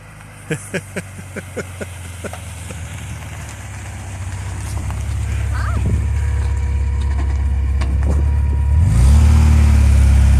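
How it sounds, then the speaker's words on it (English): Engine of a 1979 Porsche 924 with a stick shift rising steadily as the car drives up and draws closer, getting louder over about ten seconds, with a few short clicks early on and a faint voice at times. "Sarah's out in the Porsche. Yeah, here she comes."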